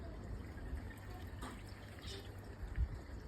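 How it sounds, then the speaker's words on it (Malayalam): Water from a garden pond in the UK is pumped out during draining, a continuous faint trickle and rush of flowing water with no speech. "ഇപ്പോൾ അതിനൊരു വെള്ളം പോയിക്കൊണ്ടിരിക്കുന്നുണ്ട്"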